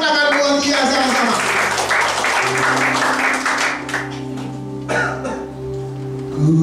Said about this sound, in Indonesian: Yang sepakat tepuk tangan buat dia sama-sama.